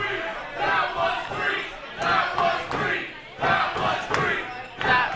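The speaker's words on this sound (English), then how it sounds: "Everyone's cheering." Crowd at a women's wrestling match cheers and shouts in repeated surging bursts, loud and close, rising and falling every second or so.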